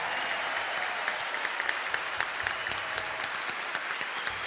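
A large live concert audience of Brazilian country music gives a big round of applause for the master, a continuous distant-sounding roar of clapping with scattered sharper claps popping out.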